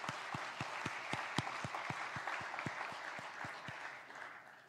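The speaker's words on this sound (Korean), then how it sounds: "우리 찬양대원들에게 격려 박수하겠습니다." A church congregation applauds the choir during a Sunday worship service, a sustained even patter of many hands clapping with a few sharper individual claps standing out, steady and moderately close throughout.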